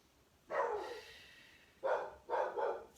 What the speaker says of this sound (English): somebody's at the door, dog's barking